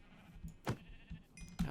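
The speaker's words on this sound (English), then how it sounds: "I see lots of sheep" Sheep in a video game give several short bleats, a quiet cluster of separate calls close by with no talking over them.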